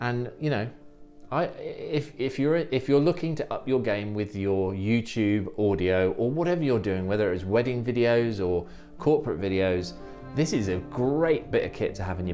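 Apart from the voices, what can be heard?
No everyday noises stand out.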